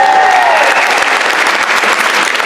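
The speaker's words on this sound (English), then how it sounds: "I think it deserves a round of applause" An audience at a MotoGP press conference breaks into loud, dense applause, a steady wash of many hands clapping throughout.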